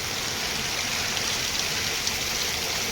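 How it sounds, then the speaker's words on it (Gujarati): Heavy rain falls steadily outside, a dense, even roar of hiss with no breaks and no voices for the whole stretch. "ફૂલ વરસાદ ચાલુ છે"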